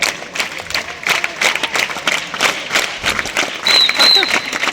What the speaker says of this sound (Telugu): హర్షించే విధంగా మన చప్పట్లు మోగాలి